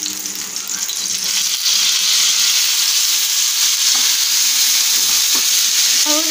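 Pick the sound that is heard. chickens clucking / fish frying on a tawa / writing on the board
fish frying on a tawa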